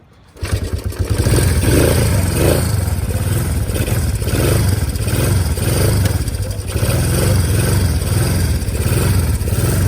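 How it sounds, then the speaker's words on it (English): A Honda car engine idles through its stock mufflers with a steady, deep and fairly quiet rumble that holds constant, close by, with no talk over it. "This one's fairly quiet. It's still a nice deep tone though. Yeah, that's the stock mufflers."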